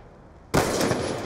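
In the game Black Ops 2, a single gunshot cracks out abruptly after a quiet moment, loud and close, followed by a rough echoing tail.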